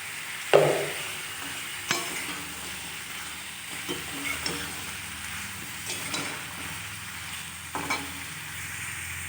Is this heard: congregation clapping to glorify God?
no